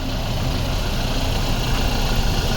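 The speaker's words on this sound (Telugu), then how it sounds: "ఇంజన్ సౌండ్ వినిపిస్తుంది చూడండి సార్" A 2022 Toyota Fortuner Sigma 4 4x4 diesel SUV idles steadily at close range, a constant low rumble with a rough, chugging texture and no talking.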